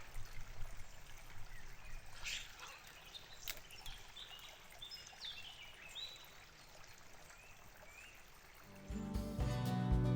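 Water runs softly and steadily from a wayside fountain on a Black Forest hiking trail, with faint birdsong in the background and a louder splashing pour near the end.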